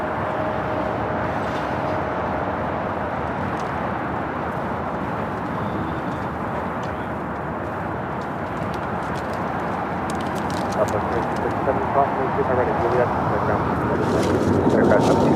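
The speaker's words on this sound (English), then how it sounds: "Airline's cargo, 777 freighter now rolling down at 25 right." A Boeing 777 cargo freighter rolls down runway 25 right for takeoff, its engines a steady broad distant roar that builds slightly toward the end, with no other clear sounds over it.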